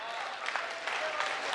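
Steady applause from an audience at a live Hindi poetry gathering (kavi sammelan), a dense crowd clapping continuously, moderately loud and close.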